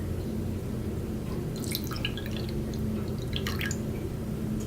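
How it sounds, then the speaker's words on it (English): A quarter cup of water goes into a slime mixture, producing soft, faint trickling and a few scattered drips and splashes over a steady low background hum. "next we're going to add in a 1/4 cup of water"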